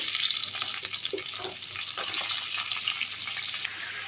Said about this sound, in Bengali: এবার সবজিগুলো একটু ভালো করে ভেজে নেব